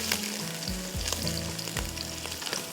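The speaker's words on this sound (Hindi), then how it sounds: "गार्लिक को आपको अच्छी तरह से ब्राउन करना है," Garlic browns in a hot pan with a continuous, close sizzle, broken by a few scraping stirs and low thumps; no one speaks.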